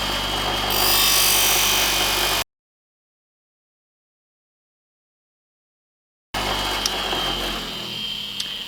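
A leather-working knife blade sharpened against a spinning abrasive disc, a close steady grinding rub that runs for a couple of seconds, breaks off into silence, then resumes with a few sharp ticks.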